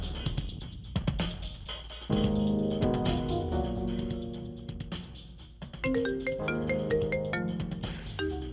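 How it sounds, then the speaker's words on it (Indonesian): A melodic phone ringtone plays alone, a bright electronic tune repeating its short phrases steadily at moderate volume. "Si Alisa nelfon gue lagi."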